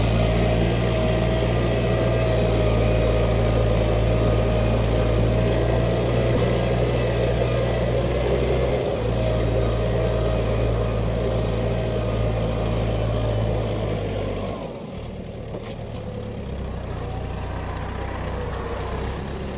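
A heavy DTZ 5404 tractor engine drones loudly and steadily while pulling a two-furrow plough through heavy clay soil, its deep labouring hum shifting pitch briefly before settling back into a constant roar.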